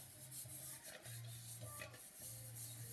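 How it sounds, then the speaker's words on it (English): A soft cloth rubs wax onto a surface in circular motions, giving a faint, steady swishing, with a low hum underneath. "Get some on a soft cloth. I use old t-shirts. That's probably the best thing to use. And you just go rub circular motion."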